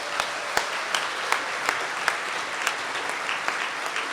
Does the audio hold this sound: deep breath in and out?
no